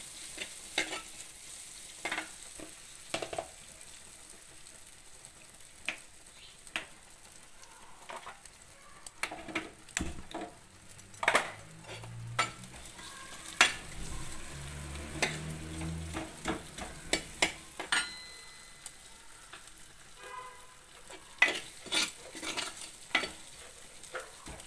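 Brinjal and drumstick pieces frying in a hot pan for a tamarind-free poricha kuzhambu, with a soft sizzle under intermittent spoon scrapes and clanks, busier and bubbling in the middle.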